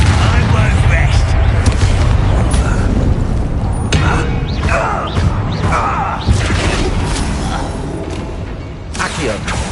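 Loud spell explosions from Confringo and Bombarda in Hogwarts Legacy, repeated booming blasts and crashing impacts in quick succession over dense game noise, with a voice talking intermittently.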